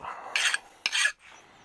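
Two quick strokes of a metal hand file chamfering and deburring the edges of a Wilton Bullet vise part, each a short bright rasp, close up.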